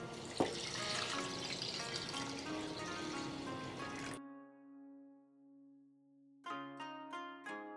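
Dashi stock pours into a pot of rice for Japanese takikomi gohan with chicken, a bright trickling splash lasting about four seconds, followed by a ringing metallic tone and a few light clinks, close and quiet.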